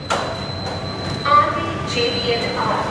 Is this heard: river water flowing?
no